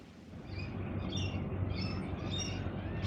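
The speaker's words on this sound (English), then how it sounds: "It's just from my daughter's veranda, some cockatoos." Cockatoos call from a veranda with repeated high, scratchy squawks and chirps at a moderate distance, rising over a low, steady background hum.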